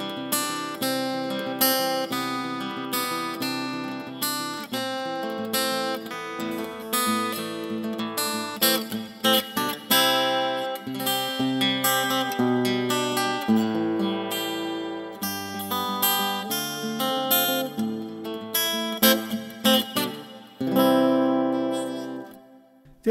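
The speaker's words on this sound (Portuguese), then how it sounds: "o som que vocês estão ouvindo aqui é só o som do violão no tanque G" Acoustic guitar played through an M-Vave Tank-G amp simulator, strummed and picked continuously in a bright, full, close passage that rings out at the end, with no talking over it.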